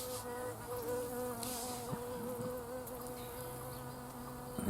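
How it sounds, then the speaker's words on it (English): A loud bee buzzes steadily close by for several seconds, its droning wingbeat sustained with slight shifts in pitch, heard alone outdoors. "That's a noisy bee."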